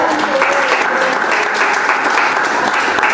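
Church congregation applauding during an evangelist's sermon, a loud, dense and continuous wash of clapping from many people, with voices and cheers rising over it throughout.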